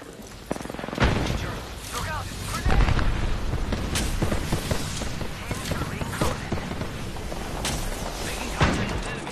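Video game explosions and gunfire from an Apex Legends match, with a loud grenade blast around the first second and repeated booming bursts through a dense, noisy firefight, over voices.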